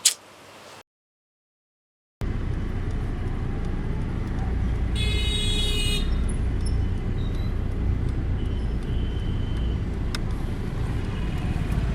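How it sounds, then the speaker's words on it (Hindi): Steady roadway rumble of cars and heavier vehicles in busy city traffic, loud and continuous after a brief silent gap, with a short bright burst like a horn partway through. "अरे मैं ट्रैफिक में हूँ यार, अभी आवाज नहीं आ रही मुझे"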